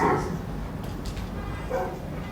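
A dog in Minecraft gives a few short, close yips and barks with a slight whimpering edge, spaced irregularly across a couple of seconds.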